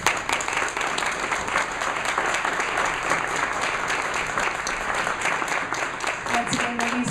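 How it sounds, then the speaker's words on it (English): Audience applause at a chamber of commerce forum for district attorney candidates, steady sustained clapping from a crowd throughout, fairly close and even in level. "if you could please give a round of applause"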